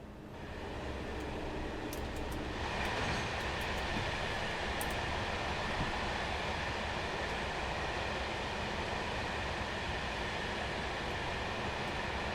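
An ICA-D wagon train braking in Train Simulator Classic on the Armstrong Powerhouse route, a loud continuous rolling rumble with steady wheel noise, faint brake resistance and brief high squeaks early on, no voices.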